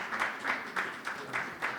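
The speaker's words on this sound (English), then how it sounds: "please keep clapping" Applause from an audience at a community gathering: a steady, rhythmic clapping, roughly six even beats in quick succession, moderately close and fairly faint, with no talk over it.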